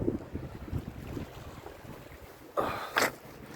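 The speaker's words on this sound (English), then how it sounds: "that wind's gonna be horrible" Gusts of outdoor wind buffet a microphone, a low rumbling roar that swells in bursts with two stronger blasts near the end.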